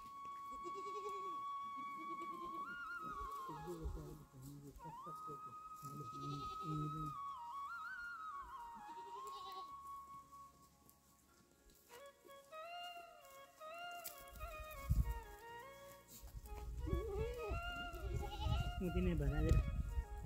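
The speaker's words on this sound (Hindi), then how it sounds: "ये जितने पीछे आपको बकरियाँ दिख रही है ये सारी की सारी बकरियाँ हमारी है" Goats bleat repeatedly in a Himalayan village in Uttarakhand's hills, their calls rising and overlapping at close range while people talk nearby.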